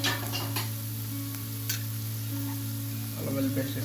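Ginger garlic paste fries in a hot pan for a Saudi-style murgh masalam, giving a steady sizzle over a constant low hum, with a few clicks and stirring scrapes near the end.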